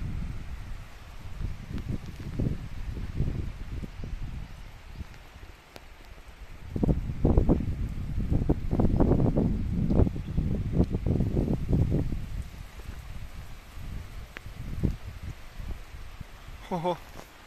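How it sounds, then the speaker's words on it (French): Strong wind gusts from a passing squall line in Moselle, France, roar and rustle through foliage, building to a louder surge midway, with people's voices exclaiming over it. "Le vent qu'il y a."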